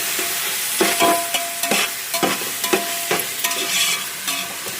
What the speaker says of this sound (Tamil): இது மட்டும் நல்லா கிளறி விட்டுக்குங்க.